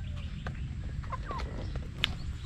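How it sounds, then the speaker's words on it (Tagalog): Chickens cluck in soft, scattered bursts at a farm resort fishpond, fairly close, over a low rumbling background. "Ayun, mga manok-manok pa sila oh."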